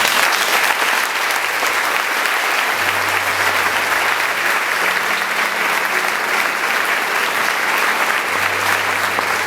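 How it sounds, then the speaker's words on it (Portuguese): A church congregation applauding, dense sustained clapping from many hands filling the room steadily and loudly, with faint background tones underneath. "Eu quero que você bata a palma para isso."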